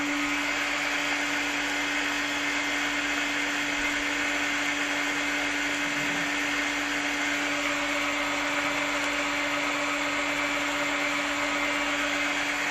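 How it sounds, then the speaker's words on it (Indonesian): A generator runs steadily under a 100-watt incandescent light bulb load, its engine speed dropping slightly as the load comes on. The hum is continuous and even, with a strong tonal drone, and no one speaks. "Nyala generator, ada pengurangan RPM"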